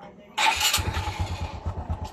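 A heavily smoking Honda XRM 125 motorcycle with 13 years of service and an engine not yet rebored starts up close by, a brief starter whir followed by a choppy, pulsing idle.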